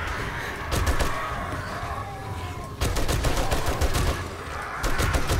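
Rapid automatic gunfire from a weapon in the survival video game 7 Days to Die, loud bursts of sustained firing broken by short pauses, up close.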